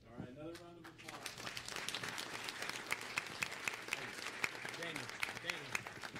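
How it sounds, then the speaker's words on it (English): Applause from a crowd swells and continues steadily with sharp individual claps standing out, while a voice speaks briefly at the start. "another round of applause"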